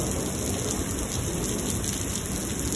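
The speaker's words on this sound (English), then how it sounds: "I'm so glad it's raining." A Lubbock, Texas thunderstorm delivers a heavy downpour, its thick, unbroken wash of rain pattering nearby at constant loudness for the whole stretch, with no talking.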